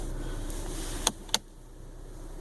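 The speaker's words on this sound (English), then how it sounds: "electric brake." Two short electronic clicks about a quarter second apart as the electric parking brake engages inside a 2016 Honda Civic Touring, close but faint, over a low cabin hum.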